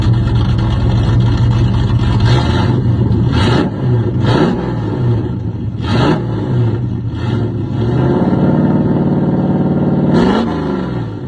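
Stock cars, including pure stock class racers, roar past at a short-track race, a loud continuous engine drone with several sharp pass-by surges and revving swells throughout.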